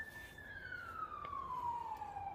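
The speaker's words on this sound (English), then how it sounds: "You hear the sirens, man." A wailing police siren holds a single falling tone that sweeps steadily downward, heard from moderate distance over a rumbling background with no talk.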